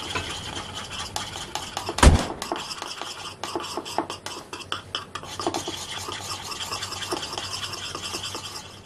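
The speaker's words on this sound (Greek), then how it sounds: "Ανακατεύω." Close, steady scraping and rubbing of a utensil stirring a cocoa mixture in a bowl, opening with a sharp knock, then continuous rhythmic swishing strokes with no talking.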